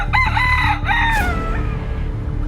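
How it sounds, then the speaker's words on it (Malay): A rooster crows once, a loud, close cock-a-doodle-doo that rises and then trails off into its drawn-out final note, heard alone with no talk. "macam bunyi ayam berkokok"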